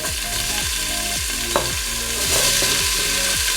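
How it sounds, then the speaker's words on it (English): Onions sizzle loudly in a hot pot, a dense crackling hiss with rhythmic scraping of stirring underneath, no talking. "Nothing is like that sizzling sound of onion."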